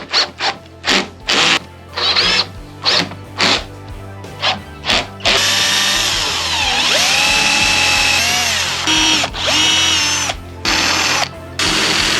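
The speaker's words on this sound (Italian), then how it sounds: "Poi allarghiamo il foro, così almeno la testa della vite entra bene dentro. Ed infine andiamo ad avvitare." A power drill drives screws into a DIY wooden camping box for a Volkswagen Caddy camper conversion, in repeated short whirring bursts with pauses, then a longer sustained run punctuated by brief stops, loud and close.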